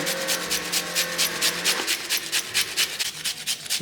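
Raw papaya is grated by hand for chutney in a home kitchen. Close, rhythmic rasping strokes repeat about four times a second, briefly over a faint steady hum.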